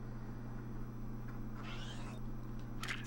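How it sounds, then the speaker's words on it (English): A house cat meows twice, faint and short, against a constant low electrical hum in a room with no one talking. "The Python Cat has joined me."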